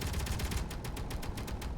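Automated turrets fire in a video game, a rapid, steady rattle of shots repeating many times a second across the whole moment, loud and close with no talking over it.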